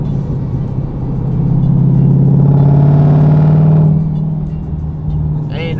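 A Whipple-supercharged Ford Mustang GT fitted with a Foster supercharger whine kit runs nearby, its steady engine rumble swelling for a few seconds as the revs rise and then settling back, with only a faint whine on top.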